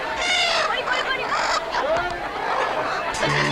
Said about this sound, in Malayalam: അയ്യോ എന്റെ കോഴികള്